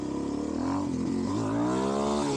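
A Suzuki DRZ400SM supermoto fitted with a 12-tooth sprocket accelerates hard for a power wheelie, its single-cylinder engine revving loud and close, the pitch climbing steadily throughout.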